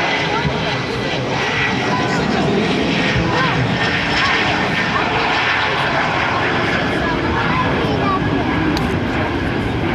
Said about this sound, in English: Team MS760 with their smoke on. As they come in overhead